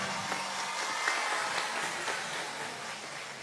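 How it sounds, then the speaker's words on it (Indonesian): A crowd claps at a religious gathering for Hari Santri, a faint, dense patter of many hands applauding at a distance, steady for the whole stretch. "Tepuk tangan."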